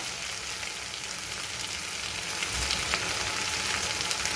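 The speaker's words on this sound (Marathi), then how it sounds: "आणि हे छान गुलाबी होईपर्यंत परतून घ्यायचे." Onions fry in a pan for Malvani masala, giving off a steady, close sizzle as they are sautéed until pinkish, with a soft hiss running throughout and no talking.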